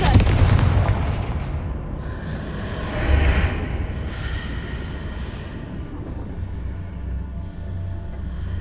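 A Confringo fire spell bursts in Hogwarts Legacy, with a loud booming blast up front, a second swell about three seconds in, then a rumbling, crackling tail that fades slowly with no talk over it.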